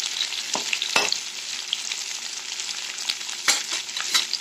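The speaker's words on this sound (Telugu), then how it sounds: "అందులోనే కొంచెం కరివేపాకు కూడా వేసుకున్నాను, వేసుకొని ఫ్రై చేసేసండి." Onions and curry leaves fry in a pan for an Andhra-style cabbage curry, giving a steady close crackling sizzle broken by several sharp stirring scrapes, with no voices.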